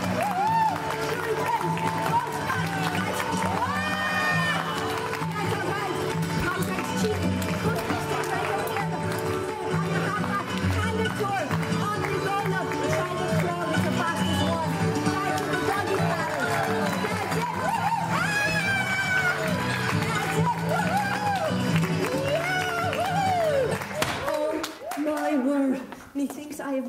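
A crowd cheers and chatters at a children's swimming session, a dense, continuous roar of voices and shouts echoing in an indoor pool, with a woman calling out encouragement throughout.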